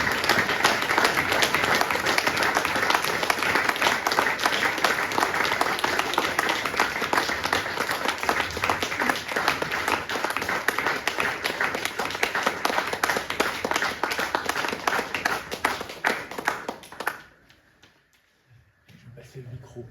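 An audience at a conference talk on a Jesuit in Muslim lands breaks into loud, dense, sustained clapping that fills the room for about seventeen seconds before stopping abruptly into near silence with faint room noise.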